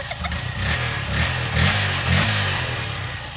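A motorcycle engine with a stock exhaust runs close by, its uneven idle pulsing with several light throttle blips and a faint rattle.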